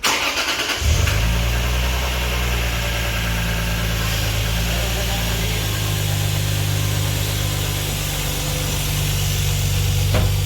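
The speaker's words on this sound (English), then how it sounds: "we'll give the car a first start and see what it sounds like" A Lexus IS300 with a 2JZ-GE VVT-i engine and new cold air intake cranks and catches, then settles into a steady, deep idle that rumbles on close by without talk.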